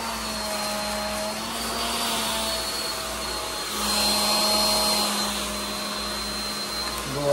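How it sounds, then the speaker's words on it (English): A hair dryer blows hot air over shrink wrap on a fishing-themed Father's Day gift basket, a steady loud whirring hum with a constant tone and slight shifts in pitch as it moves, with no talking. "Make sure you don't let the dryer touch the top part"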